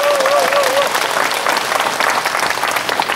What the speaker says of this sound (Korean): 여러분 동의하시면 저 박수 한번 주시기 바랍니다